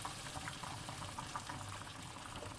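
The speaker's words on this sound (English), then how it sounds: "at this point you can add in another cup of water" Water pours softly into a simmering mince and potato curry, a low bubbling, gurgling wash that stays faint and steady.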